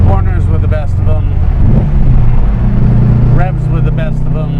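A 1963 Porsche 356 Carrera 2 Coupe cruises and corners on the road, its steady, loud engine drone shifting pitch midway while someone talks over it.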